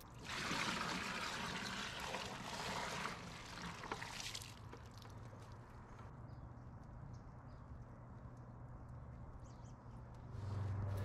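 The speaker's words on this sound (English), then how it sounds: "We're just going to now add in the water and allow the brick to rehydrate." Water pours from above onto a coir brick sitting in a sturdy wheelbarrow, a loud, broad splashing gush for about four seconds that then fades to a quieter trickle and dribble.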